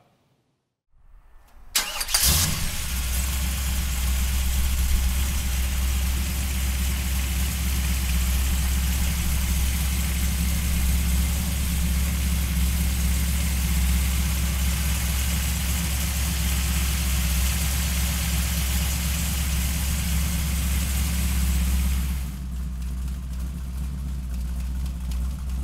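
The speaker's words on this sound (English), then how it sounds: "So come on up and let's fire this 502 up." A 1962 Chevrolet Corvette convertible with a 502 engine cranks and fires after a moment of quiet, then settles into a loud, deep, steady idle close by, easing slightly lower near the end.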